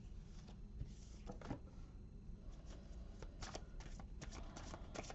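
Tarot cards shuffled by hand in a quiet room, making faint, soft riffling and slapping bursts at an uneven rhythm.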